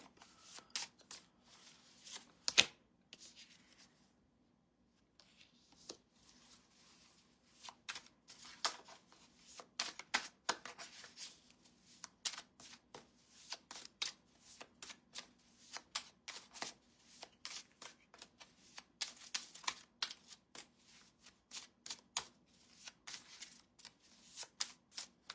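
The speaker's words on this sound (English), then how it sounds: "I'm just shuffling" A deck of tarot-style reading cards is shuffled by hand in a quiet room, a long series of soft, rapid riffling and slapping bursts repeating irregularly with short pauses.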